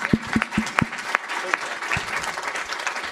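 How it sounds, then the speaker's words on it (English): An audience at a conference on digital health in Brazil claps in a short burst of applause, a few distinct claps at first thickening briefly before fading, with a voice talking over it. "How about a hand of applause for these two guys?"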